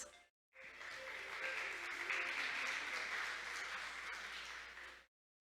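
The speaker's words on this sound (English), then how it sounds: "Let's give him a big round of applause." Conference audience applause, a steady burst of clapping lasting about four and a half seconds, fairly faint and distant, starting after a short pause and ending abruptly.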